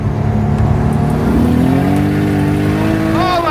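A loud Nissan Skyline R33 GT-R sedan engine revs steadily on a dyno, its pitch climbing as it roars under load, with a brief whistling wastegate hiss near the end.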